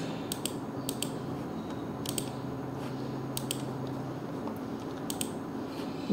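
Typing on a computer keyboard comes in quick bursts of sharp clicking keystrokes with short pauses between them, recorded close and faint over a quiet background hum.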